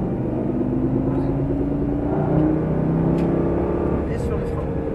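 A Lamborghini Gallardo Superleggera engine rumbles and builds as it accelerates on track, a steady loud drone rising gradually in pitch, heard from inside the car with voices talking over it.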